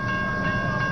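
Freight train cars roll past a railroad crossing on Eastern Avenue with a steady, loud rumble and a sustained metallic ring, heard close with no talking.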